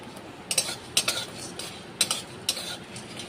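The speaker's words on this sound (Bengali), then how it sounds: "আর আছে গোটা গরম মশলা শুকনো কড়ার মধ্যে এগুলো একটু ভেজে নেব" Whole garam masala dry-roasting in a dry wok, heard as a few sharp metallic scrapes and clinks of a spatula against the pan in separate bursts, with a faint dry crackle beneath.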